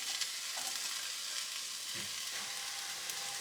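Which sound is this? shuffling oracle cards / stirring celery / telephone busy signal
stirring celery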